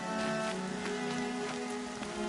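Rain falls in the action video game Horizon Zero Dawn, a dense, steady patter of drops on surfaces with a continuous hiss and no voices.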